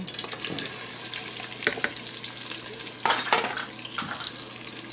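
Onions frying in oil in a pot give a steady, fairly quiet sizzle. Several sharper scraping clinks from stirring break through it, and no one speaks.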